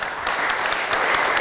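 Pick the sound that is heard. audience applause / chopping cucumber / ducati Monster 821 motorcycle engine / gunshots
audience applause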